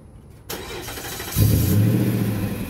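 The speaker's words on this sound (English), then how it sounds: "Okay, the truck has been remote started." A truck engine starts by remote key fob: a click, a short cranking burst, then the engine catching and settling into a loud, steady idle.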